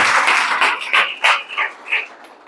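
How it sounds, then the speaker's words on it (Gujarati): Church congregation clapping to give thanks to God, a dense wash of many hands with swelling bursts, fairly close and continuous for a few seconds. "તાળી પાડીને પ્રભુનો આભાર માનો."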